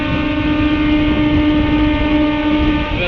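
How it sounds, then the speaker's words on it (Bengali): A passing train gives a loud, steady rumble and a long, held horn blast close by, with nothing else heard over it. "এবার তোমরা একটা ট্রেন আসবে"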